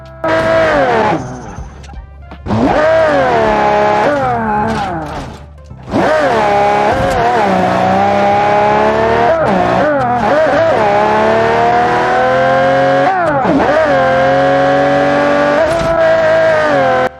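Custom-built van in BeamNG Drive, its engine droning loud and steady at high speed while the pitch sweeps up and down through gear changes, with brief dips and tire noise breaking in between.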